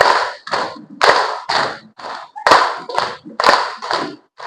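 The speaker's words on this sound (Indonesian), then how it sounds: "Tepuk anti narkoba" A group claps in a rhythmic anti-drug clap chant, sharp bursts of hand claps in repeated patterned sets, near and loud, with short pauses between phrases.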